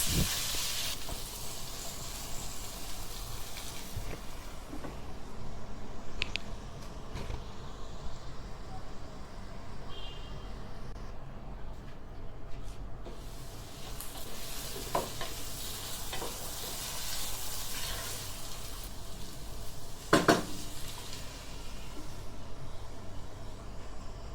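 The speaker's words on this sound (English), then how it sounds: "Now close the lid and cook for a while. Make sure to stir every now and then as it cooks." Potatoes fry in a pan with a steady low sizzle and hiss, broken by occasional scraping clatters of a spoon stirring, all close and moderately quiet with no voices.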